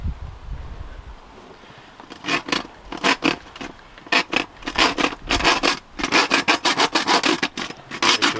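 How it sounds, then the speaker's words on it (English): A hand saw rasps back and forth through pig bone during a home butchering of an American Guinea Hog, with rapid rhythmic strokes starting after a quiet opening, close and fairly loud, no talking. "the saw is not for cutting meat, it's for cutting bone"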